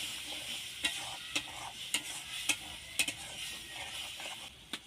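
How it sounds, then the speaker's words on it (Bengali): Gram flour and cornflour batter is stirred into chili cauliflower in a sizzling pan, a soft frying hiss with regular spoon scrapes about every half second, close and without voices. "এবার ওর মধ্যে বেসন আর কর্নফ্লাওয়ার গোলা জলটা দিয়ে দেব দিয়ে ভালো করে নেড়ে নেব"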